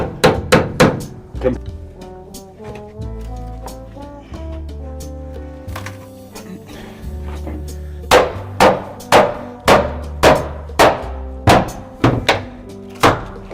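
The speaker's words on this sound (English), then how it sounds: "that's going to mean your hammering is loud" Loud hammer blows nailing boards over a broken window, a few quick strikes, a quieter stretch with lower hum, then a steady run of evenly spaced whacks close by.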